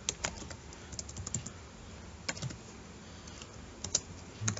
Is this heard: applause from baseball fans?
no